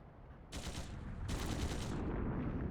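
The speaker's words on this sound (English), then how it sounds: "Gunshots from the next district!" Bursts of heavy video game gunfire roll in, rapid and booming, with dense volleys that overlap into a continuous, rumbling barrage.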